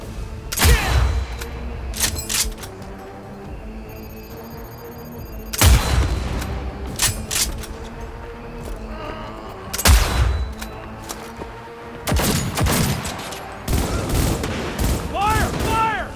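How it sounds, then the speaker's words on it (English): Heavy gunfire in Cyberpunk, with loud close-range shots cracking in sharp separate blasts and clusters amid combat noise, voices shouting at times. "Firing at close range!"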